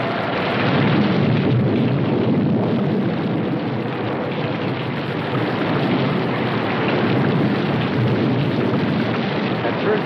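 Heavy rain pours down in a dense, steady roar that never lets up, thick and hissing throughout with no voices.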